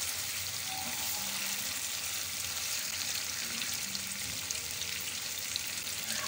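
Chicken tikka for karahi frying in oil, a steady, fairly quiet sizzle that continues evenly throughout with no talking.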